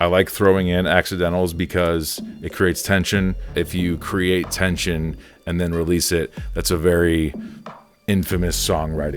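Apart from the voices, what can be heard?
No everyday noises stand out.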